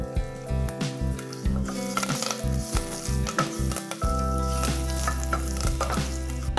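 Dried byadgi chillies hit hot oil tempering with curry leaves for a spicy Nagpur-style dal kanda, giving a steady close sizzle and frying hiss with occasional stirring scrapes, no talking.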